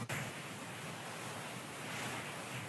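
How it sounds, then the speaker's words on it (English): Ocean waves wash in a steady, continuous roar of surf, with a breezy hiss and no break or voices throughout. "Can you hear the sound of the waves still?"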